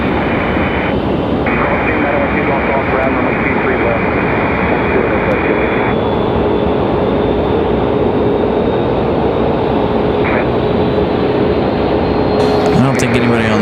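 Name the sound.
Boeing 737 MAX jet engines spooling up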